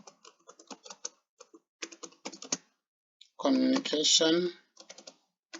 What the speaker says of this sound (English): So you can type the way we use it to type into Microsoft Word